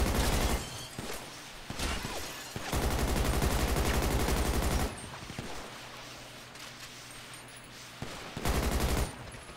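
Gunfire rattles in a GTA V roleplay shootout during a jewelry store robbery. Loud, close bursts of rapid automatic fire come in several clusters with short gaps between them, and there is no talking.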